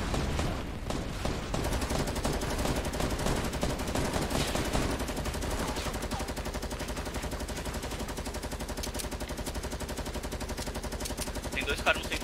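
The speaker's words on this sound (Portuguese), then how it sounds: "Tô tomando tiro de outro lado." Rapid bursts of gunfire from a multiplayer shooter video game, dense and continuous, with heavy automatic fire and explosions layered throughout.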